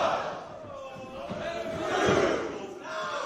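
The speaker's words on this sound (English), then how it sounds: "the crowd once again gets behind the Birmingham support" A wrestling crowd roars and cheers during an international tag team match in a university venue, a broad, swelling wash of voices that peaks midway, with a commentator talking over it.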